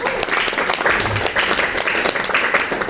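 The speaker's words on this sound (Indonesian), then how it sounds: "Tepuk tangan buat Anda." Indoor audience at a company reward gathering bursts into steady, dense applause, many hands clapping close and loud throughout.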